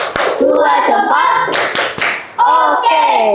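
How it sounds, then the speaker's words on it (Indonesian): A classroom group performs a rhythmic thumbs-clap routine, sharp clustered claps punctuating a chanted, sung-along pattern of voices in short bursts. "Kita kasih tepuk jempol, oke? Tepuk jempol."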